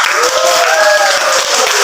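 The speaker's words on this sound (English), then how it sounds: "So let's give group 1 a barangay clap" A class gives group 1 a barangay clap, a loud, close burst of many hands clapping in a rough rhythm, with a whistle-like tone and voices mixed into the noise.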